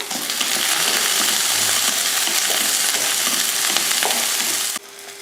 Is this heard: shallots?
yes